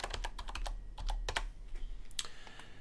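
Rapid, uneven typing on a computer keyboard, clicky keystrokes coming in bursts with brief pauses, close and fairly quiet, no voices.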